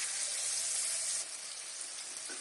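Ground spice paste hits hot oil in a pan of whole-spice tempering, bursting into a loud, steady, broad sizzle that eases slightly partway through and keeps crackling on its own.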